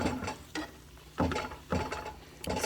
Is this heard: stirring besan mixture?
yes